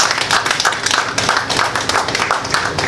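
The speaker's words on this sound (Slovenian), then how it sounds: "Tako da en aplavz Neži Cerar." Close, steady hand clapping from an audience at the opening of Slovenia's first Art Expo, brisk and continuous for a few seconds with no pauses.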